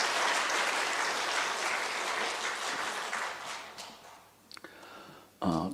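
A church congregation gives a loud, sustained round of applause for the choir during a Lunar New Year holiday service, the dense clapping fading near the end before a short burst of noise.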